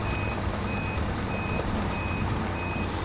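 Reversing beeps of a Mercedes O-302 bus in the video game Spintires, a regular series of high electronic beeps about every half second over a steady loud engine drone while the bus backs up.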